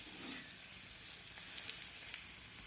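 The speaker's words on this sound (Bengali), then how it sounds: "এক পাশটা ভাজা হয়ে গেছে, এখন আমি অন্য পাশটা ভাজার জন্য উল্টে দেবো।" Chicken pieces coated in a flour and wheat-flour mix fry in a shallow pan, giving a soft, steady sizzle with faint crackles that swell slightly midway, heard alone.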